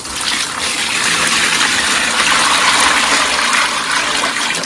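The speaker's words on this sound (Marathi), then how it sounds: "आता आपल्याला तुम्हाला पाणी ओतून दाखवतो" Water gushes steadily from a bucket into an old water tub, a continuous loud splashing pour that fills the whole clip.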